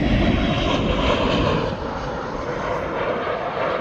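A Ryanair airliner comes in to land at East Midlands Airport, its engines roaring loud and steady overhead, easing slightly partway through, with no talk.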